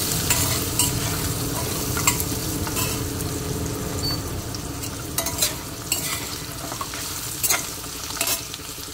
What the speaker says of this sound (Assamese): সৰু পিঁয়াজৰ আধা আৰু এনেকৈ অকণমান সময় ভাজি